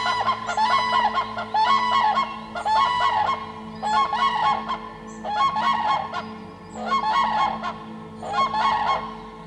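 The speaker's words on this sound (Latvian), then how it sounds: "Savukārt vienā no izcirtumiem klaigā dzērve." A crane calls from a forest clearing, loud honking bugle-like cries repeated in about six bursts at regular intervals over a low steady background.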